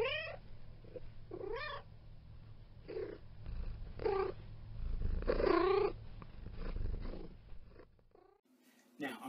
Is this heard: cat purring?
yes